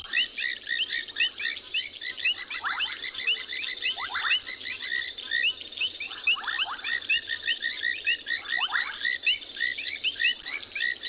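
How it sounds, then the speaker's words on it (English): A dense night frog chorus of banded rubber frogs, painted reed frogs, bubbling kassinas and river frogs on a South African safari, with constant high trilling and piping and repeated bubbling calls, loud and unbroken. "there's 5 different species of frogs so far that I've heard at the moment"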